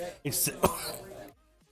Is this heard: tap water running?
no